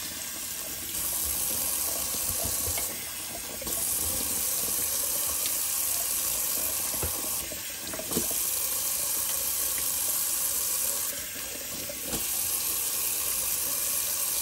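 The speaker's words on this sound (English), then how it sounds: "actually I wanna do a quick cold water rinse" Cold water runs steadily from a tap into a sink for a rinse, close and continuous with a brief break near the start and soft splashes as something moves under the stream.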